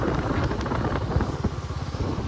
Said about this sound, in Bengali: ঠান্ডার বৃষ্টির মধ্যে বাইক চালানোর মজাই আলাদা।